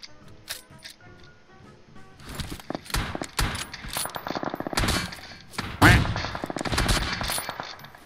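Gunfire from an AWM sniper rifle in the PUBG Mobile battle royale game, with sharp, loud broadband shots and bursts. Clicking mechanical sounds and other game noise run between them, and a brief voice is heard.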